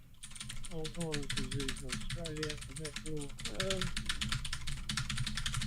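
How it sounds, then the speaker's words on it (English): Rapid clicking of keys on a computer keyboard, continuous and fairly close, with a voice talking over part of it. "is that a keyboard I hear?"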